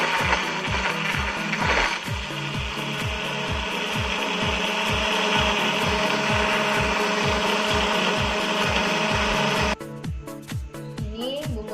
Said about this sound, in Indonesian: Sekarang kita tambahkan sedikit santan untuk memblendernya.